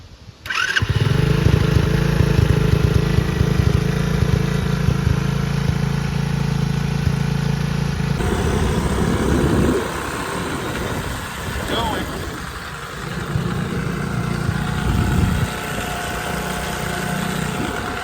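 A pit bike engine starts and runs loud and close on its first ride of the year with a flat front tire, a steady motorcycle drone that shifts in tone partway through as it pulls away and revs unevenly.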